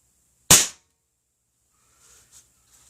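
A single sharp crack from an air rifle, a Benjamin Trail, firing a PDG pellet, loud and close, then quiet with faint small rustles afterward.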